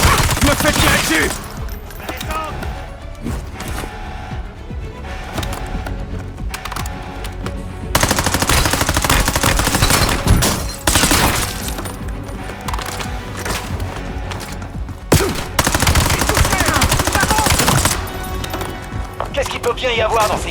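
Dense machine-gun bursts and gunfire fill a war battle scene from an action film, loud and continuous with surges and brief lulls, while voices shout over the shooting.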